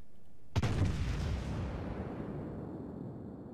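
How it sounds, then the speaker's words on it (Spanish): A single deep naval cannon shot in the video game World of Warships booms suddenly, then rolls off into a long, fading rumble. "voy a pegar un cañonazo"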